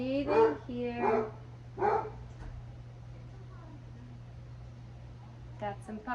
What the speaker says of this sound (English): Got some puppies out in the yard behind me.